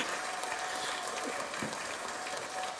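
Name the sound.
long applause from a UFC event crowd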